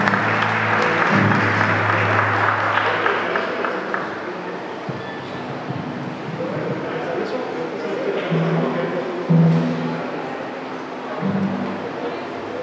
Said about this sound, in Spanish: Un aplauso por favor de nueva cuenta.